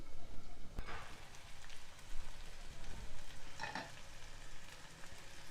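Broad bean and tomato curry simmers in a covered pan, making a continuous soft hiss and bubbling like light rain, with a few brief louder spits.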